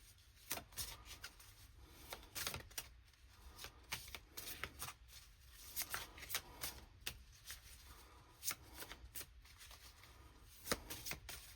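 Tarot cards are shuffled and drawn in repeated crisp riffling bursts with short pauses between them, close and fairly quiet, with no voices.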